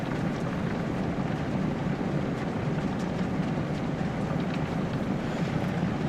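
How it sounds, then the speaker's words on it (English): Heavy rain comes down outside during a severe weather night in East Texas, a dense, even roar of noise without pause, steady and moderately loud. "I don't know if you can hear that rain outside, but it is coming down"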